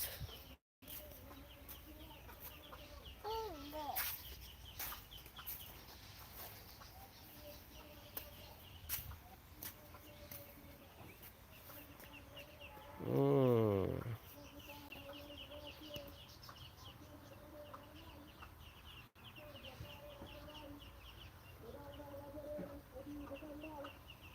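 Ducks on a farm in Mymensingh: scattered short calls over a quiet outdoor backdrop, with one loud, harsh burst of calling midway, and faint voices now and then.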